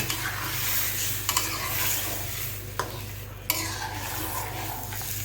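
Fish and eggs frying together in a pan, with a steady loud sizzle over a low hum and a few sharp clinks of a utensil against the pan, close up and without talk.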